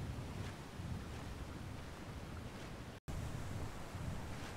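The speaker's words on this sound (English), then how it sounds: "A geyser of radioactive sludge." Radioactive sludge geyser erupting in Fallout 4, a steady broadband rushing and gushing roar that continues unbroken except for a momentary dropout, with no voices over it.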